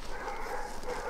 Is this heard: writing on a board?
no